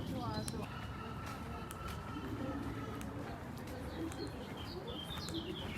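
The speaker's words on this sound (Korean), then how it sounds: "아 새소리 좋다" Birds chirp and coo in scattered short calls over a busy outdoor background in Rome during a heat wave, with voices talking underneath.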